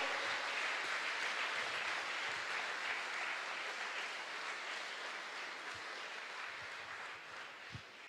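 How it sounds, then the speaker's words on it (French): A crowd applauds a couple at their 50th wedding anniversary party, a dense, even wash of clapping that holds for several seconds, then thins slightly toward the end. "Est-ce qu'on peut leur donner une main d'applaudissement?"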